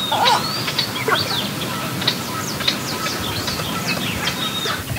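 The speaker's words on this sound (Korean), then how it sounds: "어디선가 새소리가 들려와 가까이 다가가 봤는데요" Small birds chirping outdoors in rural Vietnam, a scatter of short bright calls and trills overlapping from several directions against a steady low background hum, moderately near.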